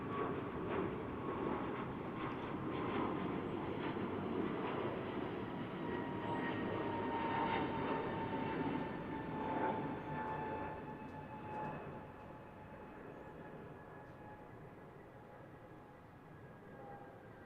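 An Airbus A220 jet airliner departs Salt Lake City International for Las Vegas, a steady distant engine roar with faint whining tones that holds level and then fades slightly toward the end, with no speech.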